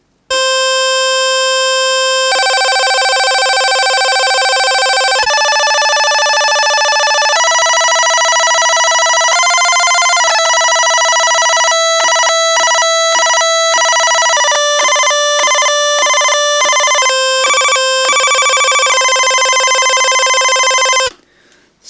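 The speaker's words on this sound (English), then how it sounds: "So it sounds like a kind of a telephone effect when you think about it" A Stylophone 350S played with stylus 1 gives a bright, buzzy, reedy electronic tone that steps through a sequence of held notes, with a rapid stuttering run of repeated notes near the middle, loud and close.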